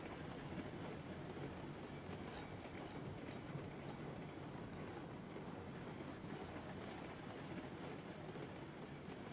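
A train rolls along rails in the game Railroads Online during shunting and a log run, a steady, dense rumble with rattling wheel noise continuing loud throughout.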